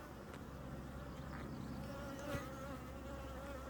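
Honeybees hum inside an open backyard beehive, a soft, steady drone from many insects that continues evenly throughout with no talking.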